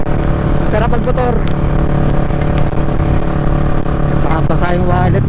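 A Kawasaki Vulcan S motorcycle rides along a rainy road in Batangas, its engine droning steadily and loud throughout with slight pitch shifts as it runs, and a voice speaks over it.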